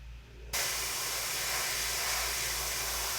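An airbrush spraying paint over a filigree stencil starts abruptly with a sharp steady hiss of air, continuous and close, holding evenly for several seconds with no talk.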